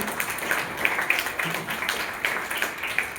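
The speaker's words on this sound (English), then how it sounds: "Give a huge round of applause for them" An audience claps for competition participants at a school inter-house event, a steady wash of applause sustained throughout, moderately loud and fairly close.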